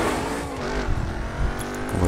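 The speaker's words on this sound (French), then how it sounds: "On va tester un petit peu le bolide." A race car engine in a video game drones steadily, with a strong harmonic whine that rises and falls slightly while revving, close and loud throughout.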